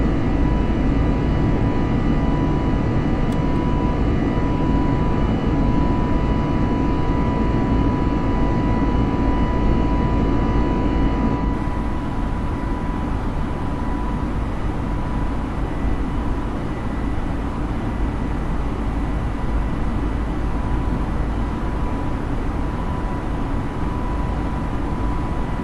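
Steady, loud engine roar of an Airbus A320 departing in Microsoft Flight Simulator, a dense continuous rumble and whine that holds throughout with a slight shift in tone partway, no voices.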